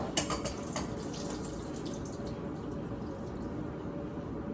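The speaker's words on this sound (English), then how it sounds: "drain the water out" Water pours steadily from an opened can of whole kernel corn into a sink, a continuous splashing trickle after a few brief clinks at the start.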